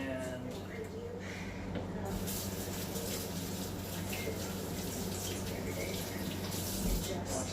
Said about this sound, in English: wash our hands back off